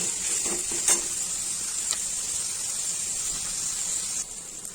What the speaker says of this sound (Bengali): পেঁয়াজটা লাল হওয়া অবধি আমি একটু ভেজে নিচ্ছি, ভালো করে পেঁয়াজটাকে ভালো করে ভেজে নিচ্ছি।